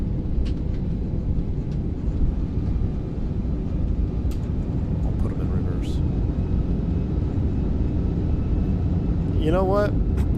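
Airbus A340 engines roaring steadily with thrust reversers engaged after landing in a flight simulator, a loud continuous broadband rumble through the whole stretch, with a short rising whine near the end.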